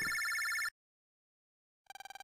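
A video game telephone in Megaman Battle Network rings in steady electronic bursts, loud at first, then stopping, then returning as a rapid pulsing ring after a pause.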